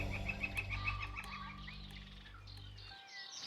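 Birds call at Malheur National Wildlife Refuge in Oregon, a quick run of repeated chirps and a few thinner calls over a low steady rumble in a quiet open landscape.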